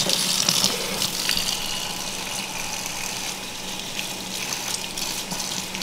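Tap water runs steadily into a kitchen sink while dishes are washed, a constant close gushing hiss with faint clinks and no talking.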